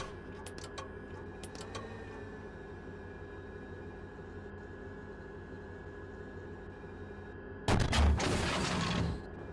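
A tank gun firing a sabot round in the tank simulator Steel Beasts: a single loud, heavy blast near the end that rolls out briefly, after a stretch of quiet vehicle hum and a few faint clicks, with no voices.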